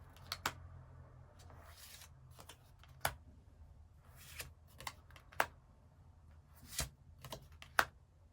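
Tarot cards are shuffled and handled in quiet, scattered bursts of soft riffling and sharp card snaps at close range, with no voices.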